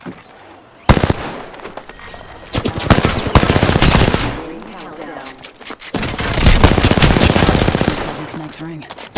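Rapid automatic gunfire and bursts of shots in the online battle game Apex Legends, loud and close, coming in several long volleys with short gaps between, while a player talks over the action.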